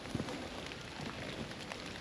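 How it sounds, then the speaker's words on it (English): Rain falling outdoors at a countryside metal-detecting site, a soft steady hiss of drops pattering on the ground with a few light ticks, faint and continuous. "Rain, rain, rain."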